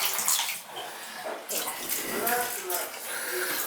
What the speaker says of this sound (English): Oh, see the spout pipe leaking.